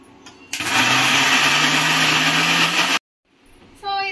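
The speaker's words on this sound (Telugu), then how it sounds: "ఇప్పుడైతే మనం మంచిగా అయితే మిక్సీ చేసేసుకుందాము." A mixer grinder whirs loudly while grinding spinach and onion curry paste, running steadily for about two and a half seconds before cutting off abruptly, with a short bit of sound resuming at the end.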